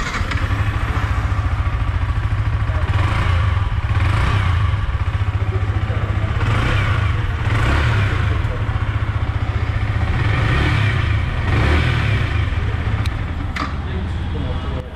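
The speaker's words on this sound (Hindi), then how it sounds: "ये था दोस्तों exhaust sound Yamaha R15 V4 का।" Yamaha R15 V4 sport motorcycle in metallic red, exhaust running near and loud for the whole stretch, a steady low engine drone with repeated swells as the throttle is blipped, no speech over it.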